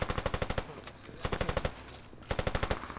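Rapid automatic gunfire in Squad crackles in three tight bursts, each a fast string of sharp shots, with scattered single shots and lower rumble between them, loud and close.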